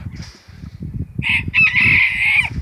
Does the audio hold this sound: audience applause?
no